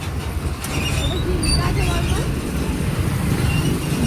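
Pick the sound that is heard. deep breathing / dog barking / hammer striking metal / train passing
train passing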